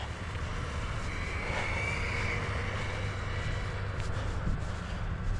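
An Arrma Kraton V6 RC car on a 6S 4500mAh 120C LiPo goes to full throttle, a steady continuous motor whine and hum filling the whole stretch at moderate distance with no talk.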